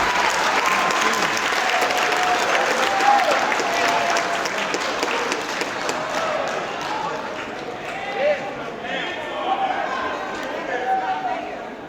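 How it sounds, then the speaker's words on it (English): Loud, sustained applause from a crowd at a lecture in Chattanooga, Tennessee, dense clapping mixed with cheers and chatter that continues for several seconds. "before you clap too loud"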